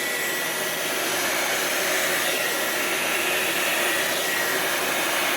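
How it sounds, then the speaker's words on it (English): An adapted blow dryer runs on high with the cool button pressed in, a loud, steady whooshing roar with a faint whine that holds without a break. "I have adapted a blow dryer."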